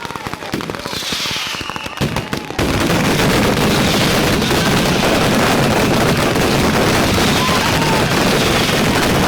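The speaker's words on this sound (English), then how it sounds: "this kind of fireworks show is part of a long-standing festival tradition" Dense, continuous crackling bursts of fireworks at close range at an Italian festival, loud and rapid like a barrage, following a short stretch of sparser pops.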